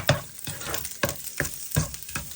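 Ginger sizzles in a hot pan while a utensil scrapes and stirs it in repeated strokes, loud and close, with no talking.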